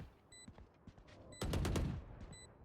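Pistol gunfire in the video game Valorant: a tight burst of several rapid shots, loud against a quiet backdrop of faint game sounds and small clicks.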